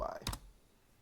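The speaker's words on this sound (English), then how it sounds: "we're going to type in Python, and it's chat.py" A single sharp keystroke on a computer keyboard while a command is typed at a command prompt, close and brief, followed by quiet room tone.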